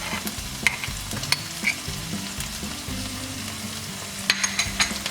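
Ground mint leaf paste sizzling and frying with half-cooked potatoes and rice in a pan, a steady loud crackle with scattered stirring clinks and scrapes throughout.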